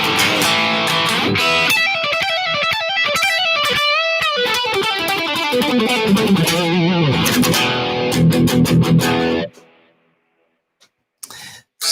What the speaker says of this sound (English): if you want to make it scream, you can do that too.